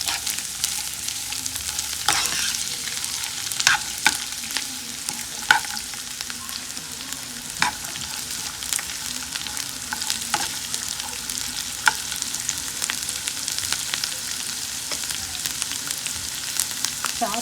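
Vermicelli frying in ghee for sheer khurma, a steady soft sizzle with occasional stirring scrapes and light taps, close and unaccompanied by talk.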